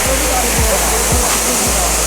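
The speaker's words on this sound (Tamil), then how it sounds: "எப்படி இருக்குது வாட்டர் ஃபால்ஸ்?" Kailasakona (Kona) waterfall in Chittoor, a 40 ft fall, roaring as a steady broadband rush of water, close and loud, with a few low thumps beneath it.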